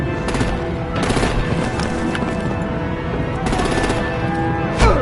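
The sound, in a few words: gunfire from artillery in the video game Telltale's Batman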